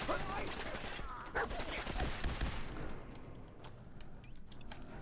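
Enemy gunfire in Fallout 4 with the Sim Settlements 2 mod crackles in rapid sustained volleys, loud and close at first, thinning into scattered shots and clanks later.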